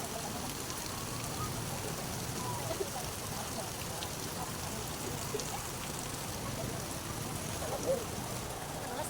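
Rain falls steadily on surfaces, a constant wash of patter with scattered louder drops.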